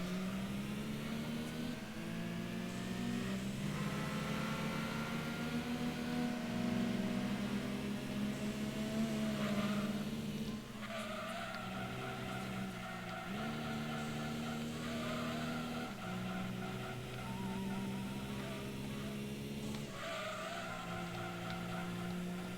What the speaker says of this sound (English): I like how this car sounds like an electric blender now.